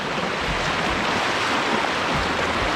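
Floodwater from the Phetchabun mountains rushes through Khon San district like open sea, a steady, loud broadband roar of churning water with wind buffeting the microphone, no voices.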